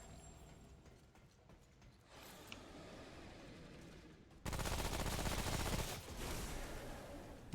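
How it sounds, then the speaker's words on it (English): An SMG fires in rapid bursts in the game Remnant: From the Ashes, a fast stuttering rattle of shots against background game noise that turns loud and dense in the second half. "You can see my SMG, like, working pretty well with this armor set so far."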